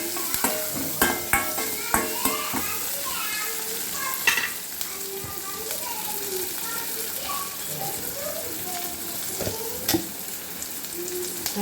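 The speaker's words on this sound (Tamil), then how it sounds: "அதனால் நல்லா உப்பை போட்டு நல்லா வதக்கிடணும்." Onions sauté with salt in a pan for thakkali kadaiyal, a steady close sizzle punctuated by a run of spatula taps and scrapes early on and lighter stirring afterward.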